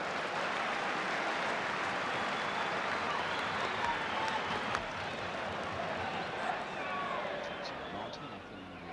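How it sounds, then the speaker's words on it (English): Football crowd at a West Ham United match applauding and cheering, a broad continuous roar of clapping and voices from a large stadium audience, steady throughout with a few sharp claps standing out. "The crowd are really enjoying this"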